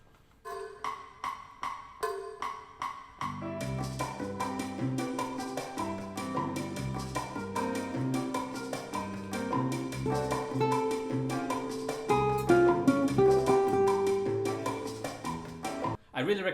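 Latin salsa band recording with piano montuno, bass and percussion, opening with sparse piano hits before the full groove kicks in and runs steadily, with a brief voice under it.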